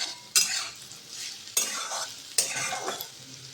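Dry red chilli and panch phoron spluttering in hot oil, with three sharp bursts of sizzle and stirring clatter against a quiet background, close and fairly soft.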